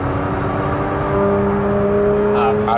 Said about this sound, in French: Ça aspire, même tu as un bruit de succion un peu comme toujours chez Ferrari quand tu accélères.